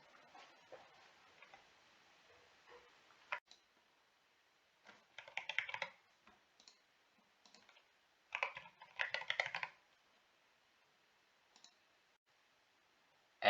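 A computer keyboard gives faint, close typing and clicking, with scattered single clicks and a few denser bursts of keystrokes between quiet gaps.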